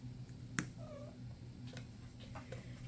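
A house cat gives a single faint, short meow in a quiet indoor room, with a sharp tap and a few small clicks around it.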